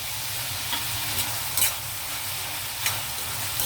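Prawns and onions frying together in a pan: a loud, continuous sizzle with stirring and a few sharper spatula scrapes and crackles rising above it.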